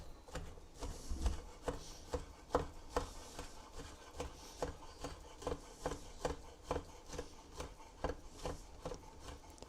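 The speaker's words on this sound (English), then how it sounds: "I'm just going to start slicing this kielbasa" A knife cuts through kielbasa sausage on a board in a home kitchen, giving a steady series of soft, evenly spaced chops, fairly quiet and close, with no talking.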